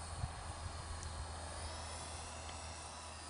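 A homemade model plane built from pink insulation foam flies overhead, its small motor giving a steady distant buzzing drone with faint harmonic whine, no talk.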